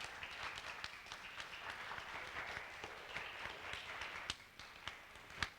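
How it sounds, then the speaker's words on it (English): A church audience gives a soft, distant round of applause, a steady patter of many hands with a few sharper claps standing out near the end. "So if we can get a round of applause for that."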